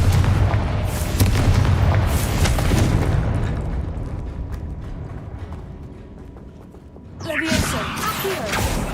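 A booming Confringo fire-spell blast in the Hogwarts Legacy video game on PC, a loud low rumbling explosion that swells and fades over several seconds, with a second burst near the end and game voices underneath.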